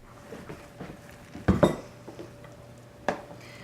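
A utensil clinks and scrapes against a casserole dish as sweet potato souffle is mixed, giving irregular clinks with one louder cluster midway, close and without talk.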